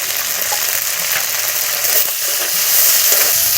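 Green chili, ginger paste and turmeric sizzle in hot oil with a dense, steady, loud crackling hiss that holds evenly throughout and has no talk over it.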